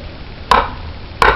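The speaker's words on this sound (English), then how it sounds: "I'll baton with it" Two sharp, heavy impacts about 0.7 seconds apart as a Becker BK2 knife is batoned into a wooden log outdoors, each strike a close, solid crack with a brief ring-out.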